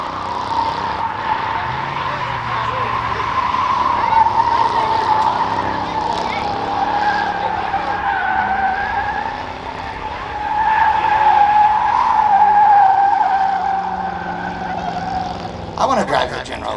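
Tires squeal and skid continuously as a General Lee car spins donuts at a Moparty event, the engine droning beneath the long screeching whine.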